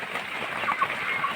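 Chickens cluck and fuss nearby in a backyard setting, soft scattered clucks over a faint ambient background, no talking heard.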